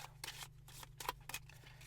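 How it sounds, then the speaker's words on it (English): Playing cards from a tabletop city-builder deck being shuffled back together, a quiet run of soft riffling bursts and papery flutters over a faint steady hum, with no talking. "shuffle the deck back up,"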